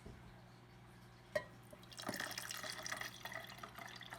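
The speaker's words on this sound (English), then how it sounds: "we're going to fill our beaker with water" Water is poured into a 400-milliliter glass beaker to fill it about halfway. A sharp click comes first, then a close, steady splashing pour that continues to the end.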